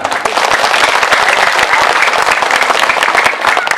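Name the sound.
applause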